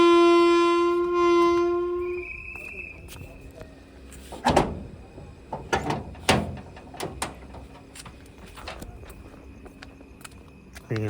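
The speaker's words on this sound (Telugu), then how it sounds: "ఇలా డోర్లు ఫుల్ లాక్ చేసినాడు." Doors on the Guntur Express passenger train being shut and locked: a steady electronic warning tone plays first, then a few sharp, loud metallic clunks and bangs follow, with quieter rattles and carriage noise afterward.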